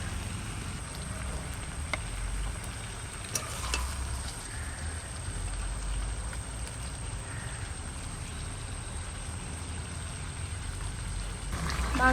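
Mutton curry meat sizzling and frying steadily in a pan while being stirred, cooked outdoors in the rain, a continuous close hiss with occasional scrapes and little talk.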